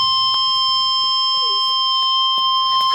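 An Emergency Alert System attention tone ahead of a special marine warning, a loud continuous steady electronic tone held for the whole span, with no voice over it.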